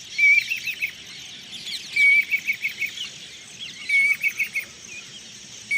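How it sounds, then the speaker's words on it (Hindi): Bird calling in the background of a village field in the early morning, repeated short chirping bursts about every two seconds, faint and distant over a soft insect-like hiss. "चिड़िया बोल रही पीछे।"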